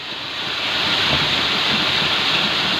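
Water rushes out beneath a traditional gharat water flour mill, making a loud, constant broadband roar that swells slightly and holds steady, with no voices.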